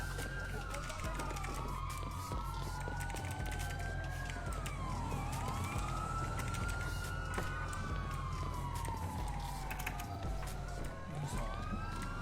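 Several police car sirens wail in overlapping rising and falling sweeps in a video game, loud and continuous, with engine and traffic rumble beneath and voices talking over them.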